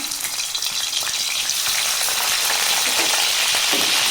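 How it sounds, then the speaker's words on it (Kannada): Onion sizzling steadily in a hot pan while being fried for a chicken green gravy, a loud, dense, continuous crackle with occasional stirring, close and without talk. "ಒಂದು ಜಸ್ಟ್ ಒಂದು 2 ಮಿನಿಟ್ಸ್ ಫ್ರೈ ಮಾಡ್ಕೊಳ್ಳೋಣ"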